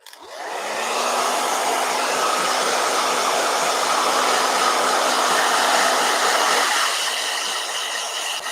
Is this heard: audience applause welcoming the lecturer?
no